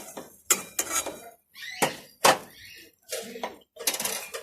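Metal pot set down on a stovetop and closed with its lid, several close clanks and scrapes of cookware in quick succession with short pauses between, in a home kitchen during cooking of soya pulao.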